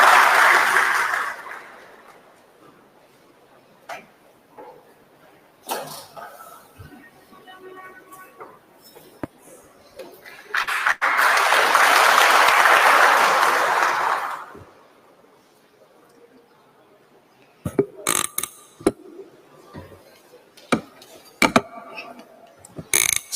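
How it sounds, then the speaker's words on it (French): A crowd in Senegal's National Assembly claps steadily for a few seconds, swelling and fading amid otherwise quiet chamber sounds and occasional sharp knocks. "sous vos applaudissements"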